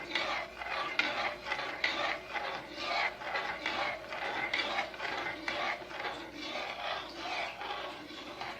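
Vanilla pudding mixture stirred in a pan over medium heat on a stove, making a steady, rhythmic scraping of a spoon against the pan, close and moderately quiet, with no talking.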